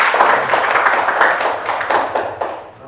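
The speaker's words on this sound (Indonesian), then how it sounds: "Tepuk tangan dulu untuk Ferdi." Schoolchildren in a classroom clap for a classmate: a busy, close burst of many small hands clapping at once, with a few louder individual claps before it thins out and fades.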